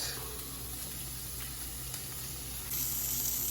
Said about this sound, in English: I'm just gonna go ahead and throw in the jackfruit